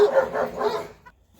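On a farm with a chicken coop, dogs bark in a quick cluster of three close, loud barks, then fall quiet apart from faint movement.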